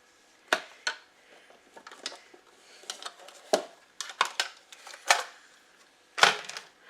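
Chopped vegetables for split pea soup are tipped into a cooker in a series of light, irregular clattering knocks and scrapes, close and fairly quiet, with no talking.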